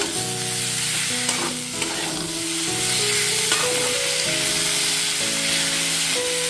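Dalia khichdi mixture with a little sugar sautéing and being stirred in a pan, a steady close sizzle with scraping stirs throughout and background music tones running beneath.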